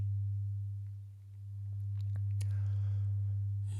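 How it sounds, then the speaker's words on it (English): A soft, steady low tone hums continuously at an even level for a few seconds, calm and unbroken, as gentle background for a guided sleep story set in a garden. "You may notice how the tones arrive easily."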